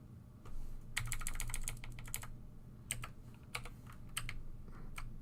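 Rapid keystrokes on a computer keyboard as a password is entered in clustered bursts with short gaps, close and fairly quiet, over a steady low hum.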